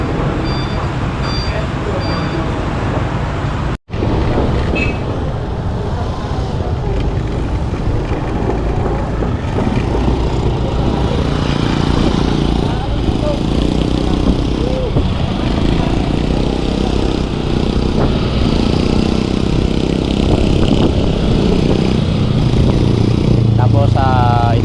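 Motorcycle ride home under a dark, rain-threatening sky: a steady, close engine drone with wind rumble continues throughout, broken by a brief gap early on, while a person talks over it at times.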